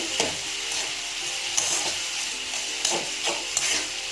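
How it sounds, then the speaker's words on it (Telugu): Turmeric and chili powder are stirred into black-eyed peas cooking in a pan, with a low sizzle under several distinct scraping strokes of a spoon, close and unaccompanied by talk. "అట్లాగే కొంచెం పసుపు కారం ఇవి కూడా యాడ్ చేస్తున్నాను ఒకసారి అన్నీ చక్కగా కలుపుకోవాలండి"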